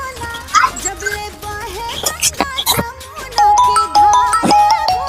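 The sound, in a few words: phone ringtone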